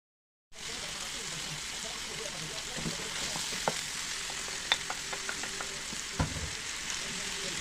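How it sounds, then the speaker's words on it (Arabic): Savory pastry filling ingredients fry in table oil, a dense hiss that starts abruptly after a brief silence and continues steadily, with scattered spoon taps and clinks against the pan and no speech. "انا غادي نشحرهم في زيت المائده"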